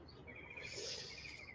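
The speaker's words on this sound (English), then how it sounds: "what a beautiful morning with the birds" Birds sing in the early morning, with a few faint, thin chirping calls drifting over a quiet background for a moment and no voices heard.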